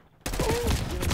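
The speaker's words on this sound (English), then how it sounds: "I keep hearing sniper shots whisper past my ear" Sniper gunfire in the Black Ops 6 video game erupts abruptly after a brief hush, a loud sustained burst of shots and game noise with a faint voice mixed in.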